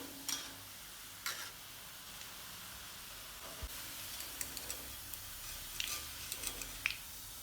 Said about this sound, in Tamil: நான் சுட்டு எடுத்துகிட்டு இருக்கேன் இந்த கைமா உருண்டையை.